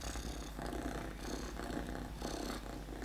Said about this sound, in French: j'espère que le petit chat ne fait pas trop de bruit